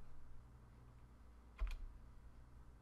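A couple of quiet keystrokes on a computer keyboard while a PowerShell command is entered, a short cluster of clicks in an otherwise near-silent room.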